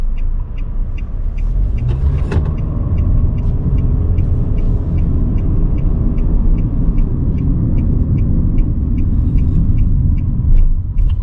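A 2023 Nissan Sentra pulls out onto the road, a steady low engine and road rumble heard from inside the cabin, with a regular soft ticking like an indicator and a sharp knock near the start.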